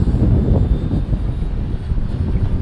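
A Gaui X2 RC helicopter flies fast overhead, a steady, loud rushing drone with wind buffeting the microphone throughout, no talking.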